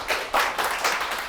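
Audience at a real estate consulting lecture clapping, a short patch of light applause with several individual claps audible close together.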